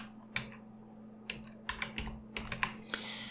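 Keystrokes on a computer keyboard while entering a slideshow name in PTE AV Studio, a dozen or so irregular clicks in quick bursts, close and fairly soft, over a low steady hum.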